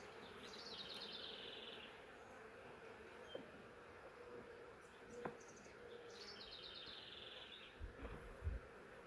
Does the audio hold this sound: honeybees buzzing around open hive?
yes